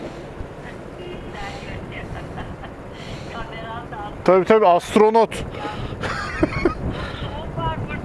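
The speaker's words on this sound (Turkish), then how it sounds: "Soğuk, çok soğuk değil ama çok rüzgar var." Strong wind buffets the microphone of a motorcyclist riding at night in a storm, cold but not very cold, a steady low roar beneath a man's speech in Turkish and a few sharp louder gusts.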